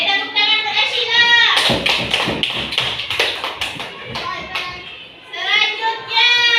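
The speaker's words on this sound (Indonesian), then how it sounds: "Oke, tepuk tangan buat Ashila." Fourth-grade primary school class clapping together for a classmate, a dense burst of children's handclaps lasting a few seconds, with kids' voices before and after.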